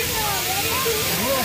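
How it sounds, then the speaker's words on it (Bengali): Misting nozzles in an artificial rain forest spray water like rain, giving a loud, close, continuous hiss with a faint voice-like warble over it. "এই যে পুরো বৃষ্টি পড়ছে যেন।"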